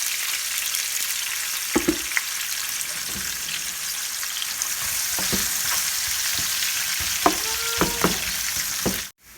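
Sliced onions sauté in a pan for a fish molly curry, giving a steady bright sizzle with occasional stirring clinks and scrapes, fairly close.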